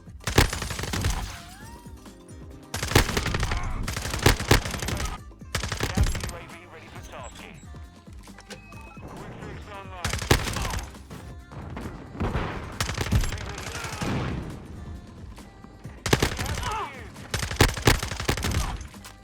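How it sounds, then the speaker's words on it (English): An automated sentry gun in the video game Modern Warfare 2 fires in repeated rapid bursts, joined by other gunfire and explosions in a busy, loud battle mix. "Sentry gun popping off."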